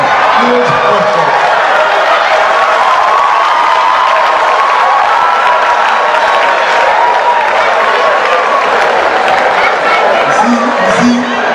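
An audience claps and cheers steadily throughout at a live stage talk in Ghana, a dense, loud wash of applause and crowd noise with a few shouts rising above it.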